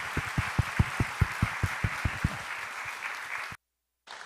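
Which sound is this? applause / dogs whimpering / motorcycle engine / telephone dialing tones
applause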